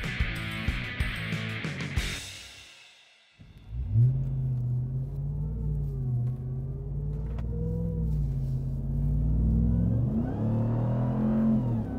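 A 2022 Ram TRX pickup's supercharged 6.2-liter V8 cranks with a brief burst, falls quiet for a moment, then settles into a deep, steady idle rumble with gentle rising and falling revs, close and alone.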